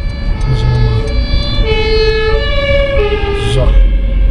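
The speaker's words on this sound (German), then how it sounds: "Krankenwagen." An ambulance siren on a Berlin street heard from inside a taxi, its loud two-tone wail alternating steadily over engine rumble while people talk in the cab.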